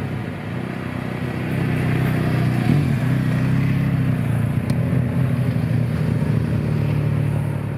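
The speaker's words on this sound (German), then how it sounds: "Hier kommt das nächste Motorrad." A motorcycle on a road beside a cycling route drives past with a steady engine drone that swells toward the middle and holds loud and close, with faint wind in the background.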